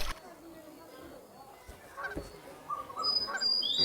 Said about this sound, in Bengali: এই হাঁসের হাত থেকে আমাদের বেঁচে যেতে হবে